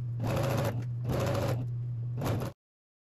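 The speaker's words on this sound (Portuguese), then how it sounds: "Agora é só você vir costurar fora fora, tá?" A sewing machine stitches a blouse hem in three steady whirring bursts separated by short pauses, loud and close, with no talking.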